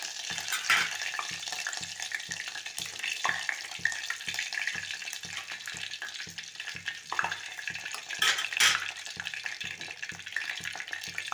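Bay leaf and curry leaves frying in hot oil for palak besan patodi: a steady, broad sizzle continues throughout, with a few brief louder crackles and no talking.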